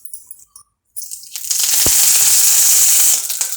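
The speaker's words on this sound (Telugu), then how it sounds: "ఇప్పుడు ఇదే బాండ్లీలో ఇంకొంచెం నూనె వేసుకోవాలి. ఒక 1/2 స్పూన్ వేసుకుంటే సరిపోతుంది. దీంట్లో మనము కరివేపాకు వేసుకోవాలి." Curry leaves drop into a small spoonful of hot oil in a kadai and burst into a loud, steady hiss and crackle of frying that rises abruptly and holds for a couple of seconds.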